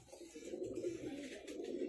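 A pigeon coos as its cage is opened: a continuous low, soft cooing that stays close and steady, quiet, with faint handling noise and no talk.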